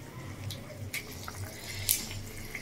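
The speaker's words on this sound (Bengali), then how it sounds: "আর একজন শুধু জল ভরতে আছে আর খেলতে আছে" A child filling water and splashing about at a tap, with faint running water, scattered small splashes and a brighter burst near the end, quiet and close.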